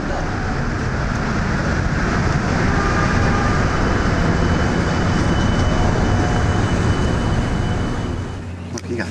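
A passenger train at Harpers Ferry station gives a loud, steady low rumble with whooshing noise throughout, close and continuous, tapering slightly near the end, with no speech over it.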